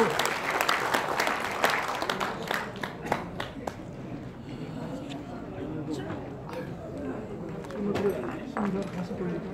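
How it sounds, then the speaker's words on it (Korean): Audience at the end of a Korean lecture on Park Chung-hee's diplomacy claps in a burst of scattered, close applause that thins out, with some voices over it. "박수."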